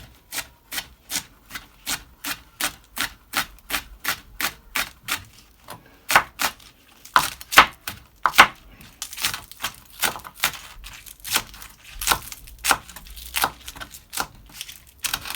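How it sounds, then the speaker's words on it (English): A knife chops spring onion on a board with steady rapid strokes, about two per second, close and crisp throughout with a brief burst of faster cuts midway. "So now I'm just gonna cut up the spring onion."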